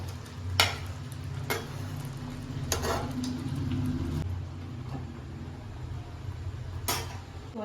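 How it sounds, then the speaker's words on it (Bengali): Metal clinks and clatters sound as a pot lid is lifted while butter chicken cooks at home. A few sharp knocks stand over a soft steady sizzle underneath, with no talking. "ঢাকনাটা খুলছি"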